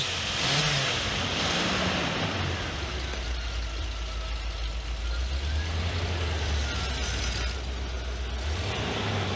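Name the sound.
1981 car engine starting and revving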